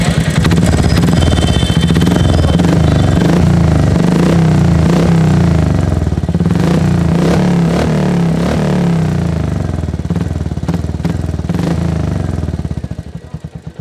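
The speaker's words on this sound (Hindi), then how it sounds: "दूसरा एग्जॉस्ट मेरा है ब्लू कलर, और इसका भी साउंड सुन लो आप, इसका बेस वाले साउंड है ये" A Royal Enfield Hunter 350 motorcycle fitted with a blue aftermarket exhaust revs loudly up close, its deep, bassy thumping engine rising and falling for about thirteen seconds before it dies away at the end.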